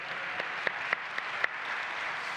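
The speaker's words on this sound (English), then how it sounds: "can we just give those two people a round of applause for what they've achieved?" Scattered audience clapping at a climate leadership talk, a soft, fairly distant patter with a handful of louder individual claps standing out.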